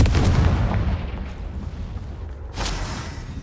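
A Confringo fire spell bursts in Hogwarts Legacy with a deep booming blast that rumbles and slowly fades, followed by a second sharper impact with crackling debris.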